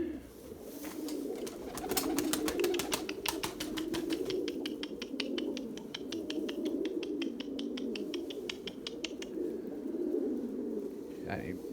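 Purebred Erzurum white pigeons coo softly in a steady low murmur, with rapid clicking or pattering bursts over it and a brief sharper sound near the end, close by and continuous.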